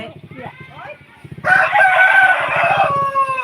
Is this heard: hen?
yes